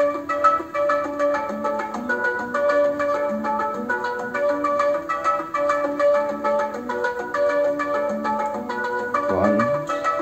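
A bright, tropical-style chime synth melody built in FL Studio, looping steady plucked notes over a fuller layered backing, loud and continuous with no talking.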